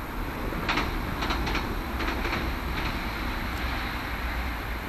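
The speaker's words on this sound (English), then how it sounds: "there's the train going past." A train passing at a distance on a windy day, heard as a steady broadband rumble with faint, repeated clickety-clack bursts from the wheels over rail joints, with no talking.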